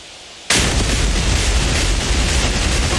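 Bombs explode in the DCS combat flight simulator, a sudden loud blast breaking the quiet, then a sustained, dense roar of detonations and rumble that continues to the end.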